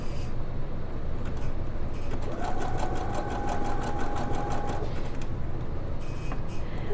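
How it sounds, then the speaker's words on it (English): A sewing machine zigzag stitches over a cord while making a fabric face mask, with a steady mechanical whir and a burst of rapid, rhythmic needle clatter in the middle of the stretch. "I'm going to go and take a zigzag on my sewing machine, and I'm going to stitch over the cord."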